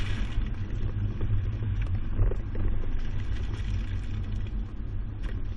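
A 2019 Subaru Crosstrek carrying a Kuat NV 2.0 two-bike rack weaves through a slalom course, giving a steady low road rumble and engine drone with faint rattles throughout.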